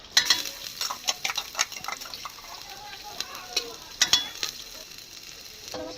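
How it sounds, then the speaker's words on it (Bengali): Crushed ginger and garlic hitting hot oil in a pressure cooker for chicken stew, a close crackling sizzle with rapid spattering pops and utensil scrapes, fading slightly toward the end. "প্রেসার কুকার গরম হয়ে গেছে, রসুন আর আদা দিয়ে দিচ্ছি।"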